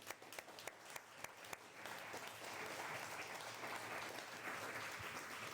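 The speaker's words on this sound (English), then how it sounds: "Will you please join me one more time in giving a thankful round of applause" An audience at an annual meeting applauds the staff, a few scattered claps that swell into a sustained, even round of applause, moderately distant and fairly quiet.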